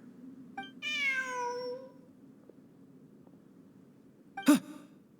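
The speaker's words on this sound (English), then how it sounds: "Look, a cat." A cat in the Genshin Impact video game lets out one clear, drawn-out meow, followed a few seconds later by a short, sharp puff-like sound, all set against a quiet low hum.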